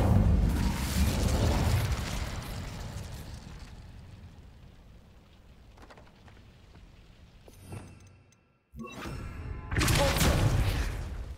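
The Incendio fire spell in Hogwarts Legacy: a loud fiery burst that fades into a quieter crackling stretch, then a brief silence before a second strong burst near the end.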